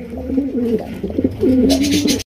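A pigeon coos close by in a loud, rolling series of throaty calls that cuts off abruptly at the end.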